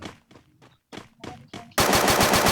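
A gun in the video game Free Fire fires a rapid automatic burst of loud, evenly spaced shots, beginning abruptly after a few seconds of someone talking.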